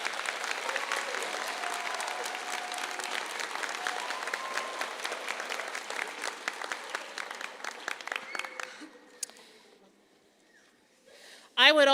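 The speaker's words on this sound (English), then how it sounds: "Let's give them all a great round of applause." Commencement ceremony crowd applauding together, a dense sustained clapping that thins into scattered claps, dies to near silence, then a voice begins at the very end.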